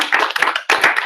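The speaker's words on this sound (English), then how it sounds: "So a little round of applause," A short burst of close clapping from a small audience at a Write the Docs documentation meetup in Ottawa, a few uneven rounds of hand claps with a brief gap.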